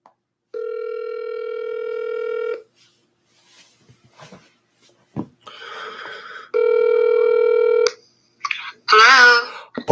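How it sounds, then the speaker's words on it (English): A telephone plays long, loud steady dial tones and then a short run of dialing beeps, with someone talking in between and at the end. "I'm now dialing Paulette."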